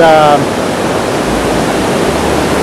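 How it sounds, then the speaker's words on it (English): River water rushes through the southern floodgate of Hwaseong Fortress on the Suwon River in a loud, continuous, deafening roar. A brief voice sits at the very start. "You see how much water's going through and how deafening it can be."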